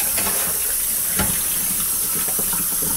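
Water runs steadily from a kitchen tap while a scrub pad used on burnt-on pasta sauce is rinsed under it, giving a continuous close hiss and splash with small shifts as the pad moves through the stream.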